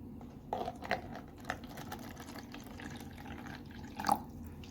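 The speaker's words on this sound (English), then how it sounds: "So if I put some water in this glass" Water poured into a disposable glass for a water level sensor test: faint trickling and a few soft drips over a low steady hum, quiet and close.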